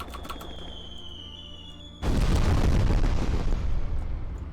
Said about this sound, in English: you can overclock the muzzle velocity on the firework and make a gun